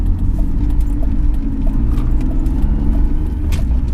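BMW E46 fitted with new Revshift engine and transmission mounts, its engine idling as a loud steady low rumble from inside the car, with faint rattles and clicks over it.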